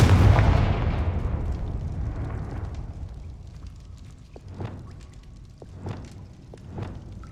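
A fiery Confringo spell blast in Hogwarts Legacy erupts loudly at once, then decays into a long rumbling tail, followed by a few softer crackling pops near the end.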